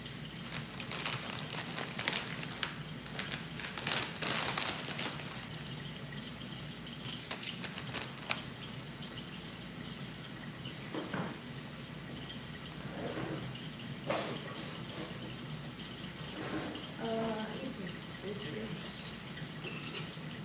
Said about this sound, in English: First of all, let's run some water. I'm gonna wash these by hand